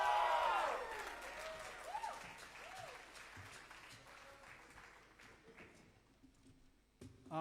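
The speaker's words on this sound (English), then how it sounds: "put your hands together in the clap clap motion for our next band" An audience at a youth rock competition applauds a school band, a loud burst that fades to scattered, thinning claps, with a brief voice near the start.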